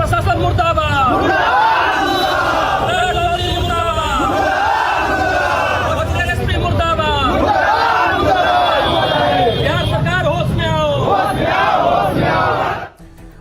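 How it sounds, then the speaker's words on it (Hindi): Protest crowd in the street at Arrah chanting slogans in support of Bharat Tiwari, loud and continuous rhythmic shouting of many voices that stays dense throughout, cutting off abruptly near the end. "भरत तिवारी के हक में लोग सड़कों पर उतरे, प्रदर्शन कर रहे हैं"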